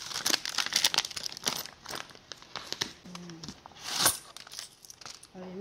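An aid package is opened and unwrapped up close, with bursts of crinkling plastic, tearing and rustling paper, and a few small clinks.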